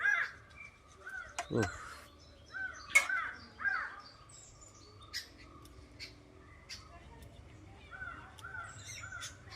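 Outdoor crows cawing repeatedly at mid distance, sharp harsh calls scattered among other bird chirps, with a brief voice heard once.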